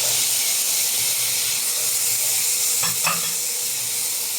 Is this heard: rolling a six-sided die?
no